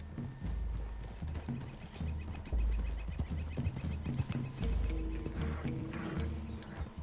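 Horse hooves clip-clop steadily in a Western video game as riders move through trees toward a clearing, with occasional snorts and ambient game sound mixed in.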